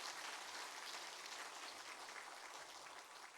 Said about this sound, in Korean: 오늘 우리 귀한 할렐루야 찬양대 수고했는데 격려의 박수 한번 합시다.